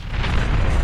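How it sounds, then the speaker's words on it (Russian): A heavy explosion in the video game Wanted: Weapons of Fate, a dense, loud, low rumbling burst filling the whole short moment with no voices. "И взрыв ужасный"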